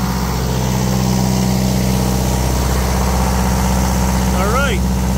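An Onan 12.0 DJC generator runs steadily under a heater load, a loud constant engine drone with a low humming pulse filling the whole stretch, and a brief voice near the end.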